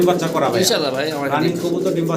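Fancy pigeons coo in a loft, a close, loud, rolling series of throaty calls with people talking alongside.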